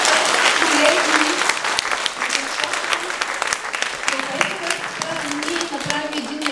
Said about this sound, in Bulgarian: моля за вашите аплодисменти за многоуважаемия професор Мекинян, за тези колеги.